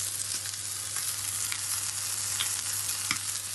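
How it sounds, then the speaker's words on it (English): A beef steak, a cote du boeuf or sirloin, sears in a hot pan with a continuous, moderately quiet sizzle and occasional crackling pops. "So this steak now has had its final sear on the other side"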